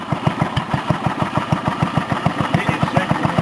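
A lawn mower engine idles close by with a loud, steady, rapid putter of even rhythmic pulses, with no voices over it.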